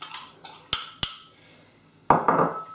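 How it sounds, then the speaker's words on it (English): A knife stirs sugar into oats in a bowl, giving a few sharp metal clinks against the bowl followed by gritty scraping, close up. "I'm going to use just a knife to stir this through"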